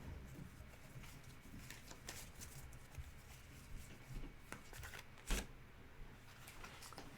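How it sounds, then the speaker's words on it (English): Tarot cards being shuffled by hand in a quiet room, a soft, steady riffling patter running throughout with one sharper snap near the end. "We're getting a lot of the same cards and I'm completely shuffling."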